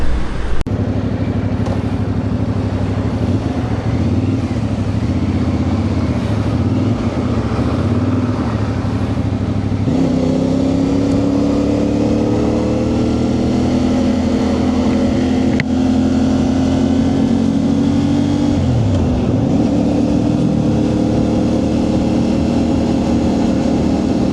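Motorcycle riding out on a morning solo ride, a continuous close engine drone with shifting pitch as it accelerates and changes gear, plus wind and road rumble.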